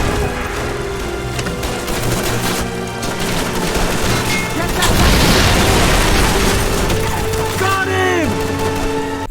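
Gunfire and grenade explosions in the Call of Duty 3 video game on Xbox 360 rumble loudly and continuously, with booming blasts, rattling shots and a voice speaking over the battle noise.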